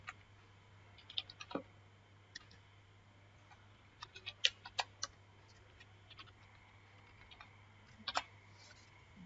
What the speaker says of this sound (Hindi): चलिए अब हम सेम वैसा ही टाइपिंग करते हैं।